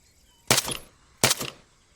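Two sharp gunshots from the video game Arma 3, each a loud, close crack with a short tail, spaced about three-quarters of a second apart against a quiet background.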